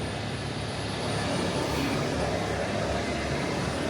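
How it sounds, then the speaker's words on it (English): A Huey helicopter runs in the background near an aircraft workshop, giving a continuous, fairly faint engine and rotor drone with no talk over it. "there's a Huey running in the background"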